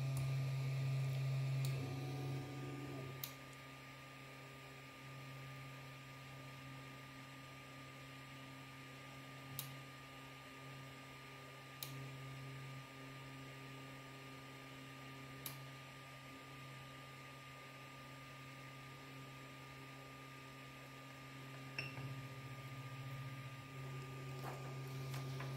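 A 3D printer runs a G-code bed leveling routine, giving a steady low motor hum and whir with faint periodic ticks as the head moves between corners, heard alone up close.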